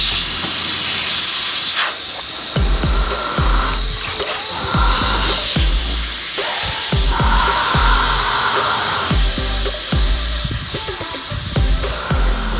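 Air hisses steadily out of a tire valve stem on a wheel being fitted with balancing beads, a continuous loud broadband rush with repeated short clicks and knocks running through it.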